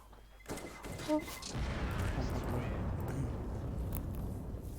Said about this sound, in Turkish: Bomba patlıyor.